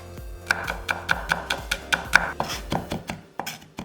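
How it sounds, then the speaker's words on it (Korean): Two whole garlic cloves are minced with a knife on a cutting board, giving a steady run of about fifteen crisp, close chopping knocks at a brisk, even rhythm with no talking. "통마늘 2개는 다져서"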